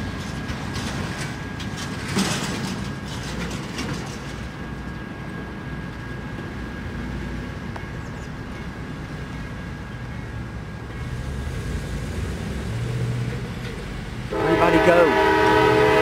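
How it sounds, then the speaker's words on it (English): An eastbound Norfolk Southern mixed freight train rumbles past in Austell, Georgia, a steady rolling roar of rail cars with a distant horn note, building toward a loud, close horn blast at the end. "Looks like a mixed freight with a special car behind the engines here."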